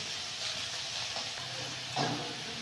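A paste of chili and cumin powder fries in hot oil, giving a steady, soft hiss and sizzle that continues throughout, with one brief louder spatter near the end.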